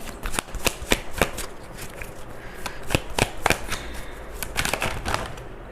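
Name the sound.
shuffling tarot cards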